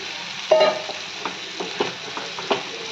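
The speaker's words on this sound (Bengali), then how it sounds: "এই সবগুলোকে ভালো করে আমি একটু নেড়ে নেব" A spatula stirs chicken masala paste in a frying pan, giving a series of irregular scraping strokes over a gentle sizzle, close and moderately loud.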